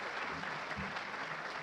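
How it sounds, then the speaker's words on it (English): Brief, dense applause from a room full of people at the ATHENA Awards ceremony, a continuous soft wash of clapping heard at a distance and fairly faint. "Another round of applause if we can."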